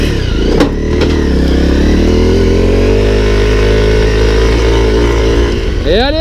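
A Honda CRF 250 L motorcycle climbs a hill in second gear with a loud, steady, close engine drone and a quick rev rising near the end.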